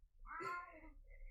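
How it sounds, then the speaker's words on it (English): A pet cat lets out a single loud, drawn-out meow, close and clear, over a quiet room. "She carries it around and meows really loudly."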